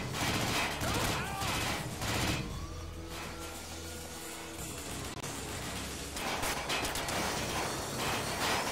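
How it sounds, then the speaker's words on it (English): Shotgun fire in the shooter Mindjack comes as dense, noisy bursts of gunfire at the start and again near the end, with a quieter mechanical stretch between them. "Shotgun? Yeah, shotgun."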